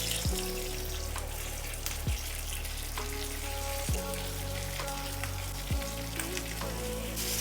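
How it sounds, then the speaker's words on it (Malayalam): Pork ribs dusted with cornflour fry in olive oil in a non-stick pan, giving a steady close sizzle with periodic scraping strokes and a few light clinks throughout. "ഇനി ഒരു നോൺ സ്റ്റിക്ക് പാനിലോട്ട് കുറച്ച് ഒലിവ് ഓയിൽ ആഡ് ചെയ്ത് നമ്മൾ കോൺഫ്ലവർ സ്പ്രിങ്കിൾ ചെയ്ത പോക്ക് റിബ്സ് ഒന്ന് ലൈറ്റായിട്ടൊന്ന് ഫ്രൈ ചെയ്തെടുക്കാം"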